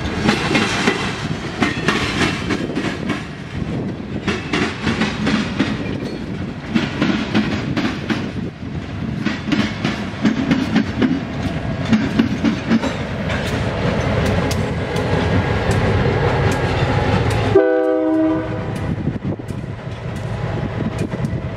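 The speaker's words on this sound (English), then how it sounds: "caboose is leading the shove move of three loaded ballast cars in a UP-GP-15-1 of Missouri Pacific Heritage" Union Pacific GP15-1 locomotive in Missouri Pacific heritage paint, with a caboose leading, shoving three loaded ballast cars in West Chicago: a loud, continuous rumble of rolling wheels and clattering joints, with a brief gap and then a horn-like tone.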